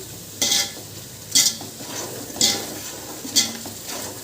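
Onion masala for coconut biryani is stirred in a pan: four evenly spaced, loud spoon scrapes rise over a steady, close sizzle, with no voices.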